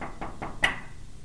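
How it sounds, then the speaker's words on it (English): Three sharp knocks on a door land in an even rhythm, close by and fairly loud, with the last rap the strongest, and no talking over them. "So I'm going to knock over here"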